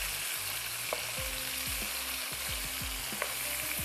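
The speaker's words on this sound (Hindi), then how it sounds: "चलिए, हल्का सा फ्राई करते हैं" Spices frying lightly in olive oil in a pan, a constant fine crackling sizzle over a low background, with a few faint ticks and clinks, no voices.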